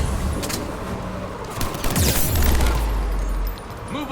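A mounted enemy gun firing in Mass Effect 3, heard as dense, rapid gunfire with booming low rumble throughout, fairly loud and continuous over battle noise.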